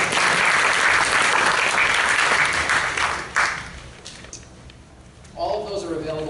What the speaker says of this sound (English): Round of applause for Bob.